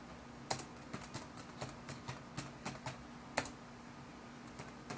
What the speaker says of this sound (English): we're going to type in San Francisco